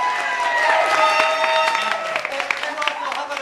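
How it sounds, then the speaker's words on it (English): Theatre audience applause during a stage show, a lively burst of clapping and crowd noise that gradually thins and scatters toward the end, with voices mixed in. "How about a big round of applause for Lady Featherbottom?"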